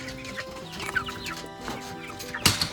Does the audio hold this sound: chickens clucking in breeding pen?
yes